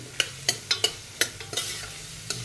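Onion cut into large pieces sizzles steadily in a pan for a restaurant-style mushroom bhaji, with a series of sharp, close scraping stirs at an irregular rhythm over the continuous fry.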